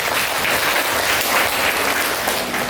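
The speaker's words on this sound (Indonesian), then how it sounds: "Sekali lagi tepuk tangannya dong." Steady, dense applause from an audience at a formal welcome event, filling the whole moment at even loudness without letup.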